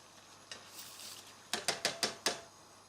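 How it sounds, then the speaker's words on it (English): Basmati rice poured into a pan of boiling water, with a light clatter followed by five sharp, evenly spaced knocks or taps near the end, close and fairly clear, with no talking. "And now I have a pan of boiling water. And all you need to do is pop your rice straight in."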